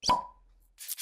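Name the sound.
beer can being opened, sound design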